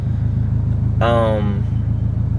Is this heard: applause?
no